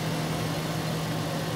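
A 2007 Mazda 6 engine idling with a surging fault, a steady low mechanical hum with a strong droning tone, close and continuous with no talk.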